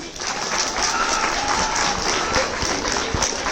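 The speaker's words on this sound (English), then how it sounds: "we'll be clapping for them once" A school science quiz audience applauds steadily, a dense wash of many hands clapping at once, fairly loud and sustained throughout without voices standing out.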